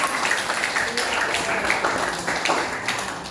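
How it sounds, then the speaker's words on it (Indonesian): Classroom applause for a student after she finishes telling a legend, a steady patter of many small hands clapping continuously, moderately close, with no clear talk over it. "Kasih tepuk tangan buat Aura."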